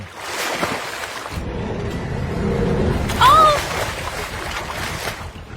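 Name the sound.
water sloshing around a boat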